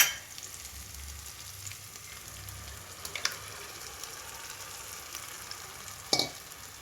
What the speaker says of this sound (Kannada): ಸ್ವಲ್ಪವೇ ನೀರು ಉಪ್ಪು ಅರಶಿನ ಪುಡಿ ಹಾಕಿ ಕುದಿಸ್ಬೇಕು